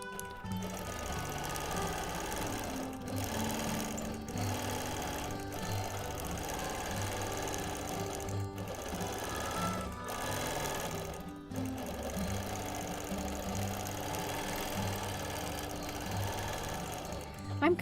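A sewing machine stitches a quilt during free-motion ruler work, running in a steady rapid chatter with brief pauses between runs as a person talks over it.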